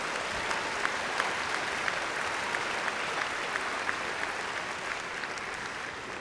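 Sustained applause from a large crowd at a community college commencement ceremony, an even, far-spread wash of clapping with a few sharper individual claps standing out.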